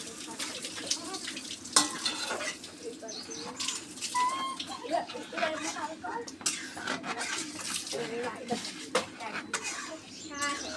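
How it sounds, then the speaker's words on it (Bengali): Boiled potatoes tumble into spice paste frying in a pan, giving a soft continuous sizzle with scraping stir strokes, fairly quiet and steady throughout. "আলু সিদ্ধ করে রাখছিলাম এই আলুটা ঢালে দিলাম"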